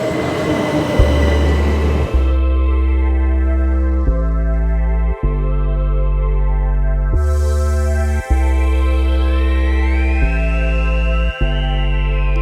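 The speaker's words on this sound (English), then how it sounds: "And here is train number 1. An electric thing." A long electric train passes close by, a loud sustained hum with regular clunks at intervals as the cars go past, and a faint rising whine near the end.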